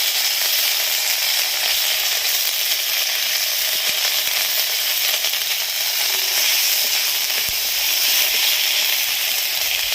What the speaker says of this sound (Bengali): তেলে আদা দেবো, দেবো একটু কাঁচা জিরে বাটা